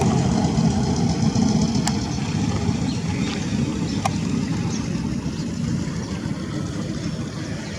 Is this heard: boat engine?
yes